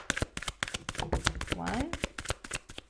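Tarot cards are shuffled in a rapid, close run of crisp riffling snaps and slaps. Someone speaks briefly over the middle of the shuffling.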